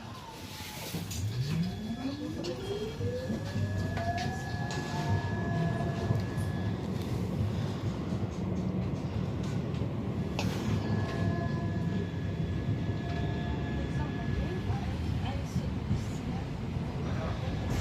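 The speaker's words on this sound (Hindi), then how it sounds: "ये हम ट्राम के अंदर बैठे हैं इस वक्त।" Inside a moving tram in The Hague, a continuous low rumble and rolling drone with a rising then steady motor whine and faint tonal squeals, broad and sustained throughout.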